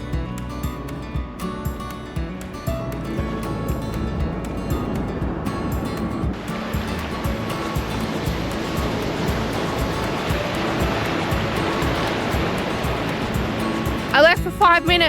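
Ocean waves washing onto a remote beach, a steady broad rushing wash that grows fuller partway through, with a brief sharper noise near the end and no clear talk.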